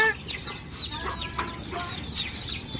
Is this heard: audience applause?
no